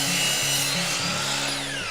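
A chop saw cuts a miter through a wooden board, its motor whining steadily and loudly as the blade grinds through the wood for a couple of seconds, with a slight pitch change near the end.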